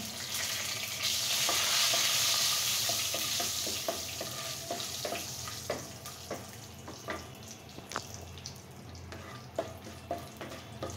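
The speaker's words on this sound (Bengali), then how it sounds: "আমি এখন এই তেলের মধ্যে ফোড়ন দিয়ে দেব। তার জন্য দারচিনি, লবঙ্গ, এলাচ দিয়ে দিলাম।" Cinnamon, cloves, cardamom and bay leaves sizzle in hot oil with a loud initial hiss that settles into steady frying, punctuated by small crackles and pops.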